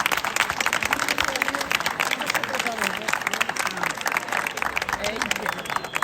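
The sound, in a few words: audience applause at school Sant Jordi event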